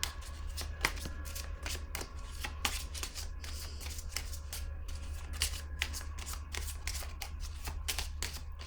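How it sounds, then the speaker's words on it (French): Oracle cards being shuffled and drawn, a steady close run of crisp riffling and slapping card sounds with sharp repeated ticks throughout, no talking. "Je vais piger une carte rose."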